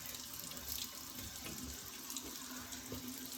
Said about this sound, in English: And I am wetting my face just with some warm water.